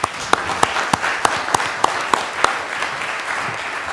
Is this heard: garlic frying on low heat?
no